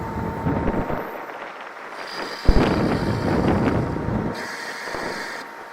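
Wind gusting across an open farm field beside a tractor and trailer, a steady rushing buffet on the microphone with a brief thump partway through, loud and close, no talking.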